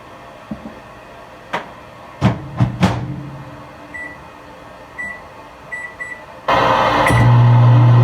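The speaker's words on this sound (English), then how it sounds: "I might microwave it for a little bit longer," A kitchen microwave oven reheats a bacon, egg, noodle and cheeseburger dish. A few sharp clicks and knocks are followed by short keypad beeps, then a steady loud hum starts and runs to the end. No voices.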